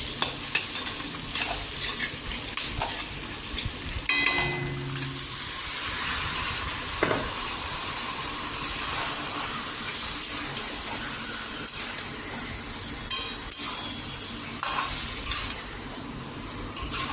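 Buffalo meat cooking in a pot, giving a continuous moderate sizzle and hiss with intermittent stirring scrapes and clinks, and no voices.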